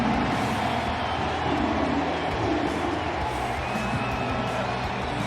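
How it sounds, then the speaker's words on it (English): A stadium crowd roars at a Detroit Tigers baseball game on opening day after an RBI base hit, a dense, loud, sustained wall of cheering that holds steady throughout. "listen to this crowd right now"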